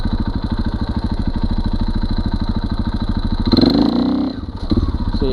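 Dirt motorcycle with a Rekluse auto clutch, engine idling with a fast loping chug, then an aggressive throttle blip in first gear as the clutch engages, revving briefly before dropping back, close and loud.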